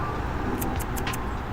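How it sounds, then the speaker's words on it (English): Cars rolling past a busy roadside rest stop early in the morning, a continuous low traffic rumble with a few short, sharp clicks or jingles close by near the middle. "Gotta wait for some of these cars to go by,"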